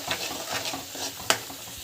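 Water simmering in a pan, with stirring, sizzling, soft scraping strokes and one sharp clink of a utensil near the end.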